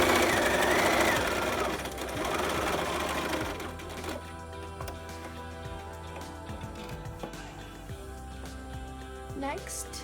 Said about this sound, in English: start sewing on a zigzag over the wire